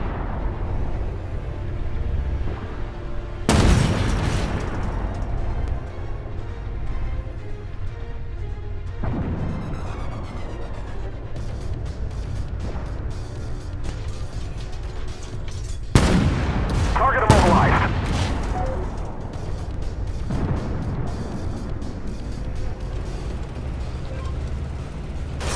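Artillery barrage called down on a hostile tank in a military video game: several heavy, booming impacts land a few seconds apart, with a dense cluster near the middle, over a constant low rumble.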